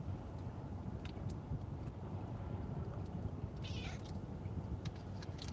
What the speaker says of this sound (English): my cat complaining because she's in a kennel